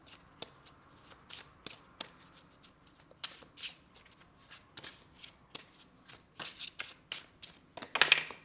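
A major arcana tarot deck is shuffled by hand, with soft irregular card riffles and slaps spread over several seconds and a louder flurry at the end, close and quiet.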